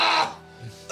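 A single short throaty cough or throat-clear at the start, followed by quiet low murmuring and a brief sound at the end.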